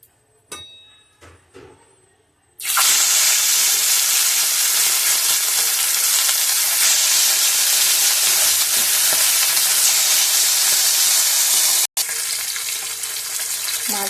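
Fish frying in hot oil in a pan: a few light clinks, then a sudden loud, continuous hiss and crackle of sizzling that carries on steadily to the end.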